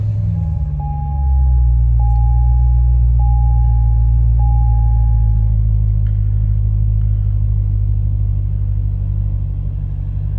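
A C6 Corvette engine cranks and catches, then settles into a loud, deep, steady idle rumble close by, with faint chime-like beeps from the car early on.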